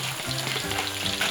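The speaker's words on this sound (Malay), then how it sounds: "Tumis hingga pecah minyak." Blended dried chili frying in oil for mee goreng, a loud steady sizzle with stirring scrapes, close and continuous with no voices.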